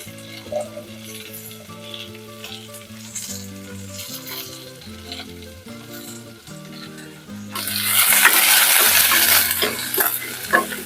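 Capsicum and plantain fry in a pan with a steady sizzle, a loud burst of crackling near the end, and occasional stirring scrapes.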